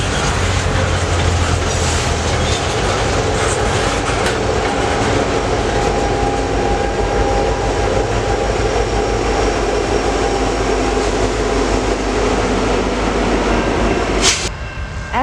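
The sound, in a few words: Norfolk Southern train passing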